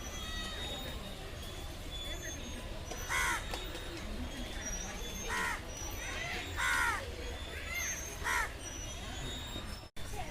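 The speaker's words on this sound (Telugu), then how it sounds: "ఇవన్నీ కూడా పక్షులే" Crows caw from trees at Hamsaladeevi along a riverside ride, several bursts of harsh calls at moderate distance over a steady outdoor background with faint human murmur.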